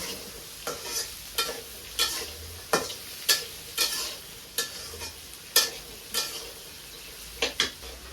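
Sweet gourd bhaji stir-fried in a pan, with a spatula scraping and tapping in a steady rhythm of sharp strokes, about one per second, over a low sizzle.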